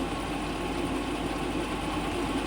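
A Scrivener No. 2G centerless grinding machine from England runs with a steady, dense mechanical drone and hum that holds constant throughout.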